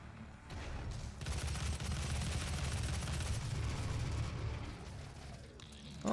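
Missiles fired in DOOM 2016 during a Cyberdemon fight, a rumbling barrage of launches and blasts rolling on steadily, ending in a sharp loud burst.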